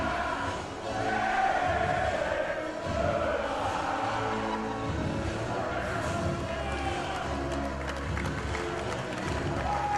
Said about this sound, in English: as the crowd serenades away his opponent